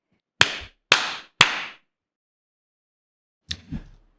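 Three sharp, close hand claps in quick even succession, then a pause and a softer clap-like smack with a low thud near the end, no talking.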